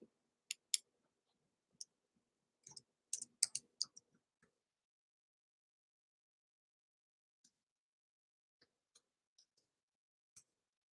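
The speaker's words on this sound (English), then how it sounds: "Let me type it in here." Light, scattered clicks of typing on a keyboard, a few quick keystroke bursts followed by sparse isolated taps with long quiet gaps, close and faint.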